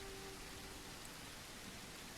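Steady rain falls in the survival game Long Distance Survival, an even, faint hiss of rainfall with no breaks and no voices.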